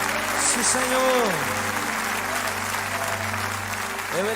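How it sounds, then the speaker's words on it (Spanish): A church congregation applauds during a worship service: a dense, continuous clapping that stays loud throughout, with a sung or spoken voice rising and falling over it. "Débele fuerte ese aplauso a Él."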